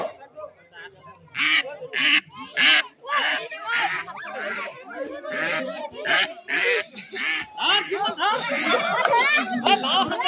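Ducks quack loudly and repeatedly in a noisy flurry of overlapping calls during a Magh Bihu duck-catching game, with people shouting and cheering throughout.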